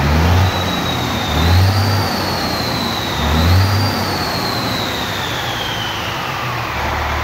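A Volvo VNL truck fitted with a Scania V8 diesel engine is revved hard, loud and close, with two throttle surges over a steady idle and a whining tone above it.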